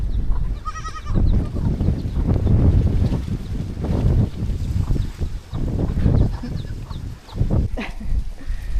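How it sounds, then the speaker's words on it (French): Baby goat on Tumbak island bleating once briefly near the start, heard over heavy outdoor wind rumble and handling noise. "Et là, il y a un bébé chèvre."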